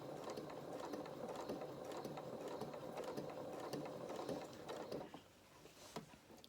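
Stitching through the foot pad of a small stuffed toy leg, a sewing machine whirs in a continuous, faint mechanical run with ticking gear clatter, slowing and stopping in the last second.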